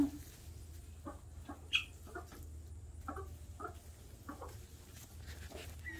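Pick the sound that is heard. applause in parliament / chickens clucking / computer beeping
chickens clucking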